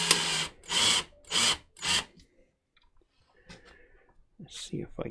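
A power drill drives screws to pull two boards together, giving four short, evenly spaced loud whirring bursts up close, followed by quieter handling clicks and rustles.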